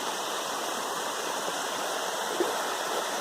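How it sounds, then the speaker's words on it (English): Water runs steadily beneath wooden logs at the marshy end of a lake in the Boundary Waters, a constant close trickling and rushing with no talking. "Water's running underneath all these"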